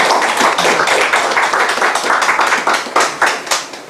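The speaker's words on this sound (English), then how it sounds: "let us give a big applause to Dr. Suzuki." Audience applause at an academic lecture on a Northeast Asia nuclear weapon-free zone, a dense steady wash of many hands clapping, close and loud throughout with no voices.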